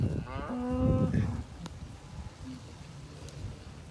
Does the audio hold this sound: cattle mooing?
yes